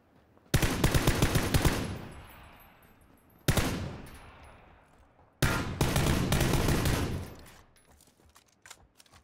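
Three bursts of automatic M16 fire in PUBG, each a rapid rattling volley trailing off into echoing decay, loud and close with pauses between, no talk.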